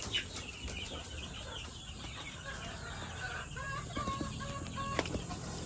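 A flock of 3-to-4-month-old chickens clucks and peeps continuously, with occasional wing flaps, over a steady outdoor background.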